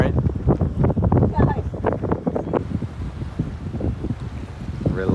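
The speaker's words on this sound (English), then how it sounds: "The wind is so strong" Strong wind buffeting the microphone on a Nantucket shore, gusty roaring bursts in an uneven rhythm, loud and close, with some talk mixed in.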